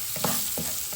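Chopped onions frying in a pan, a steady sizzle with quick scraping stirs of a spoon across the metal, close and alone.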